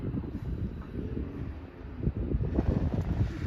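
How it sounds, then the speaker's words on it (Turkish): Strong, very cold wind buffets the microphone outdoors with low, gusty rumbling that swells and surges, growing rougher toward the end. "Acayip rüzgar var."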